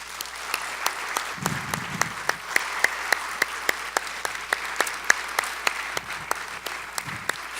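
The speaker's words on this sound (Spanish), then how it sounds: "Dale un aplauso al Señor." A congregation at a Spanish-language religious conference applauds, giving a dense, continuous patter of many hands clapping at an even intensity, with faint low voice murmurs underneath.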